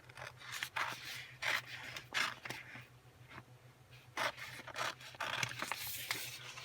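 Scissors snip through an orange craft piece for a Thanksgiving project, a series of short crisp cuts and rasping slices in irregular bursts, close and fairly quiet, with no talking.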